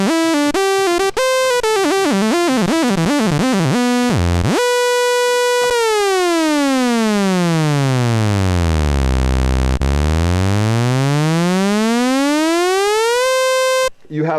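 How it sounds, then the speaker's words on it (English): A Jen SX1000 synthesizer tone wobbles, then slides smoothly down in pitch with glide (portamento) to a deep low note and glides back up again, loud and continuous. "You also have glide, or portamento."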